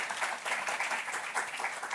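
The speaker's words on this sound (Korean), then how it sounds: "인사하실 때 박수하겠습니다." A church congregation applauds during a worship service welcoming new ministry workers, a brief, steady clapping of a moderate crowd heard from a distance.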